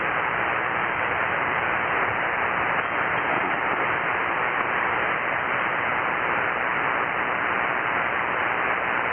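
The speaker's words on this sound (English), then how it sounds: "I can tell that you're in there. I don't know. It's just tough copy there, John." Ham radio static on an SSB net, a steady, loud, band-limited hiss lasting throughout, with no clear voice from the weak station standing out.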